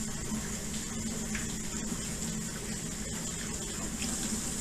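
Cold tap water runs in a steady, soft stream over broccoli in a kitchen bowl, a continuous gentle splashing with no break.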